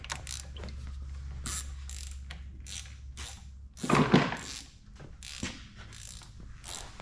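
Ratchet wrench loosening rocker arm bolts on an old Massey Harris tractor engine, rapid close clicking with short pauses and a louder burst of metallic clatter midway.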